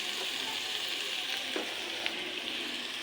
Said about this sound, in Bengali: ভেজে নেব হালকা ব্রাউন কালার করে